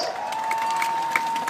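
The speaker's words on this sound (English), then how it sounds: "let's have a big cheer for Dean Woods" A crowd cheers and applauds at a 7.5-tonne truck destruction derby, a steady roar from a distance with a constant whine running beneath it throughout.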